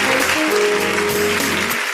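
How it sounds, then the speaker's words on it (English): Audience at a book presentation clapping steadily, dense and continuous applause at close range, with a sustained tone or music faintly running underneath. "Can we keep clapping until she comes? Please do not stop clapping."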